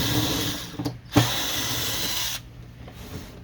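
A power screwdriver removing screws from an HP Officejet 4500 G510 printer during disassembly, a close steady motor whir with a brief clunk and pause, then a quieter stretch.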